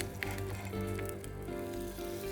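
Thin pancakes sizzle and crackle in a frying pan at low volume, with a faint steady hiss and some tonal background hum.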